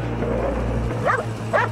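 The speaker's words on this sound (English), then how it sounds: "Dogs bark at ghosts!" A dog in a spooky TV episode gives two short yipping barks in quick succession, heard over a steady low background hum and music-like drone.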